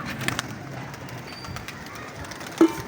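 Low pigeon cooing, brief and fairly close, rises near the end over a faint outdoor background hum.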